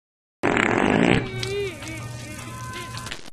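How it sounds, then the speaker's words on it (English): A cartoon fart sound effect from the animated show Banana Cat: a loud, blaring burst that trails off into a squeaky, wavering tail over a faint background bed, with no talking. "Luckily, Sparkles only farts rainbows"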